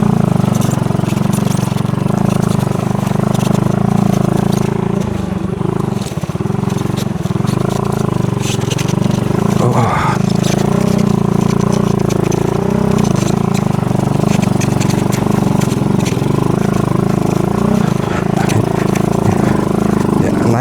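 A motorcycle engine labours steadily in first gear while climbing a steep, dry, hard-packed dirt hill toward a hilltop campsite, a continuous mid-pitched drone that stays loud and close throughout, with a rider talking over it.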